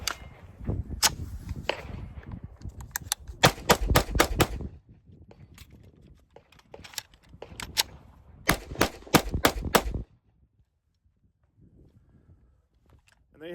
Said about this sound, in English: let's go ahead and put these last few rounds through here